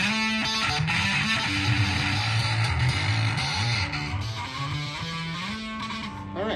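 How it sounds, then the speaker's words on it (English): Electric bass overdub played in a home studio by a player of fifty-odd years, a melodic low line moving steadily in the foreground, alone with no talk, loud and sustained throughout. "the first overdub on my favorite instrument of all time, the bass"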